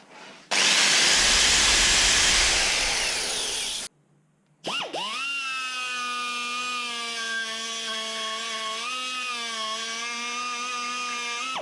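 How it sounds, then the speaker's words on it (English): A power tool cuts a slot into a metal bracket, giving a loud harsh grinding roar for about three seconds, then a short pause, then a steady high whining drone that holds on alone to the end. "Slotting one side of the bracket so that it's easier to fit."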